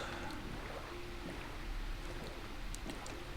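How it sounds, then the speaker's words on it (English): Real rain falls outside, a faint, steady broadband hiss in the background with a few soft patters and no voices. "I think it just started raining in real life."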